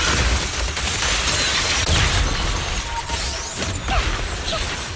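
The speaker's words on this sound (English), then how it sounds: "I love the, like, explosion of flour." A burst of flour erupting in the video game Bury Your Tears, a dense, steady rush of crashing and whooshing noise that stays loud for the whole stretch with a few sharper pops.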